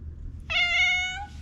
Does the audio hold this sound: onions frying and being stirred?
no